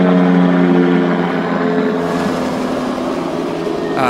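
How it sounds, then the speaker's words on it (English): A helicopter passes overhead during a Christmas parade, a loud steady rotor and engine roar filling the air, shifting slightly in tone midway as it moves across. "Look at that, there's a nice helicopter doing a flyover."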